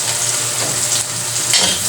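Garlic and onion fry for sisig in a pan, a loud, dense, continuous close sizzle with faint stirring movement throughout.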